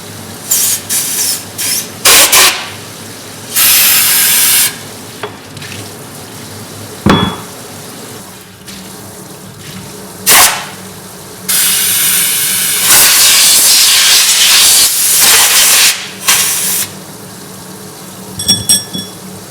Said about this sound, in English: we're going to be using some compressed air here again